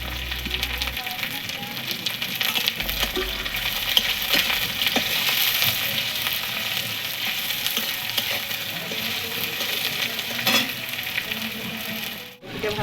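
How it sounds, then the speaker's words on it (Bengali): Onions and vegetables fry in a pan for sambar, a continuous close sizzle with scraping stir sounds and occasional small clinks, steady throughout. "সবজিগুলো এক এক করে দিয়ে ভাজবো পেঁয়াজগুলো দিয়ে দিচ্ছি"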